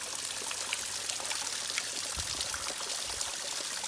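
Water pours and splashes steadily at a trail shelter's water source in the woods, a constant close hiss of running water with small trickling drips.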